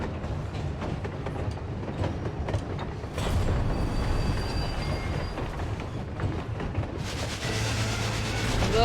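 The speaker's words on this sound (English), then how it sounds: "Your opponent appears to be a train. Here it comes." Train sound effect in a Final Fantasy XIV boss fight: a steady, loud rumble of a rail car with rattling clatter and faint wheel squeal, swelling louder near the end as the train approaches, with no talking.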